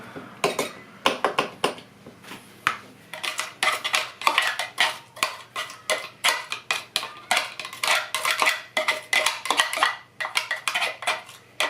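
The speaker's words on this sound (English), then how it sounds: "So we will now add that into our pressure cooker." Diced onion being added into a Tupperware pressure cooker for chicken and bacon carbonara, heard as a long run of close, sharp clinks and taps of utensil on pot, irregular but nearly continuous.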